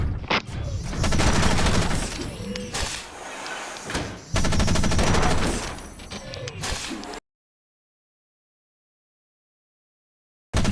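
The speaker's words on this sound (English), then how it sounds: "Remember to fire your machine gun in bursts to avoid overheating." Loud, dense machine gun fire in repeated bursts from the mech game Front Mission Evolved, with crashing impacts mixed in, ending abruptly in silence.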